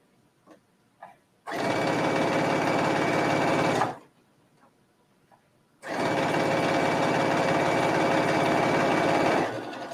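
Sewing machine stitching an elastic hem onto a sweater, running in two steady, loud bursts of continuous motor hum separated by a few seconds of near silence with faint handling clicks.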